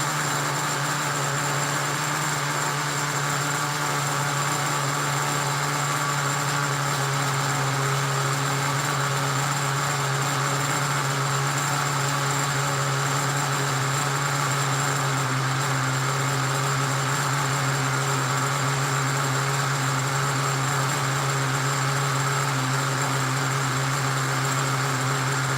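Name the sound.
nitro RC engine idling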